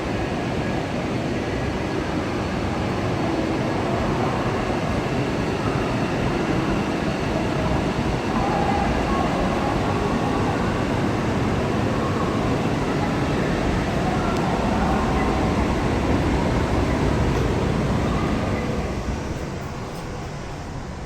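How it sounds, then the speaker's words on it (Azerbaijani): A Shenzhen–Guangzhou high-speed train gives a loud, steady rumble and rush of noise that holds evenly for about twenty seconds, then eases slightly at the end. "Bu da sürət qatarı."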